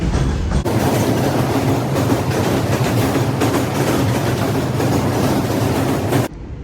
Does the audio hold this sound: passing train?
yes